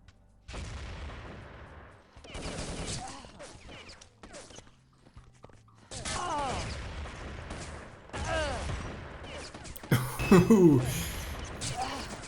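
Grenade blast and rattling gunfire in a competitive match, bursts of shots and a louder explosion near the end, with battle noise rising and falling throughout.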